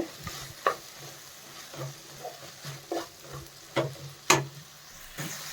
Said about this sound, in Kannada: ನೋಡಿ ಟೊಮೆಟೊ ಎಲ್ಲ ಕ್ಲೀನಾಗಿ ಫ್ರೈ ಆಗಿದೆ